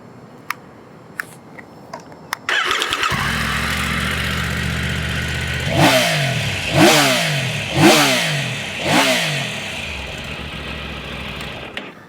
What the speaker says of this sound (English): you really feel it when you're revving the engine